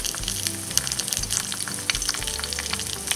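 Bean sprouts cook on a banh xeo crepe in a hot pan, giving a bright, close, steady sizzle with crackling pops and a low hum beneath, without voices.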